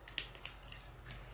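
Scissors snip through thin wood pieces, trimming ends for a Dollar Tree bunny frame craft: a quick series of sharp, crisp cuts close by, with no talk.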